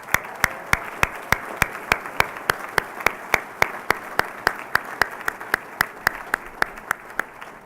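A graduation ceremony crowd applauds graduates at a spring 2017 college salute, with steady, sharp, evenly spaced claps standing out over a broad wash of clapping that lasts throughout.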